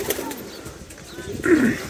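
Pigeons at a rooftop loft give soft, throaty coos nearby, one short call early and a fuller rolling coo near the end, over quiet ambient noise.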